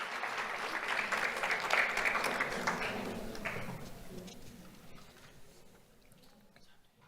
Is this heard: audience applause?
yes